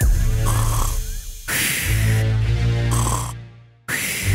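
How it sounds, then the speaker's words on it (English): A person snoring loudly and close, in several long rasping breaths with a sharp cutoff before the last snore starts again, heard alone without talk. "if not for someone snoring, wake up, you sleepyhead."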